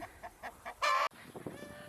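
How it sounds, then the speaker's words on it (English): Excited backyard chickens cluck nearby, a few short soft clucks building to a loud, brief squawking burst, then quieter murmuring clucks. "The chickens are a little excited."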